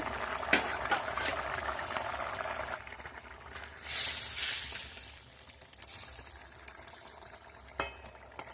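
Prawn and cauliflower curry with potatoes bubbles and hisses under a covered pan, a steady soft simmer with occasional louder swells and brief clinks.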